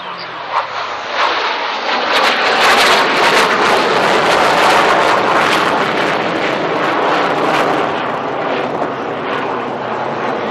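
Jet aircraft roaring through a display manoeuvre at the RAF Waddington air show, a loud sustained broadband engine rush that swells and holds for about ten seconds, mixed with wind buffeting on the microphone.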